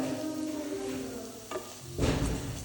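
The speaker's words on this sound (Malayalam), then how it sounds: "പനീറിൻ്റെ കളറിലൊന്ന് മാറി നല്ലോണം ഫ്രൈ ആയി വന്നിട്ടുണ്ട്" Paneer fries in hot oil in a home kitchen, a steady soft sizzle broken by a brief scrape and then a louder stirring rustle near the end.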